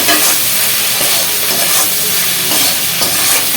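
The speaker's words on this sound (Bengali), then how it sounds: "পেঁয়াজটা ভাজা হতে থাক।" Sliced onions with a spoonful of salt fry hard in a pan for a mutton korma, giving a loud, continuous sizzle and crackle from close by, with stirring scrapes mixed in.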